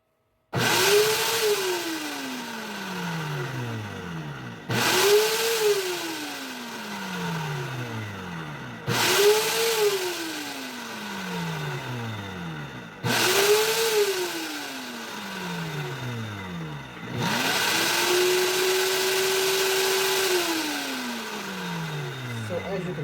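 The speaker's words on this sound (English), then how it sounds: "let's put this top on and see how it blends now" Blender pulsing through tatsoi and basil pesto, four rising-then-falling motor whirs in bursts followed by a longer steady high run, loud and close.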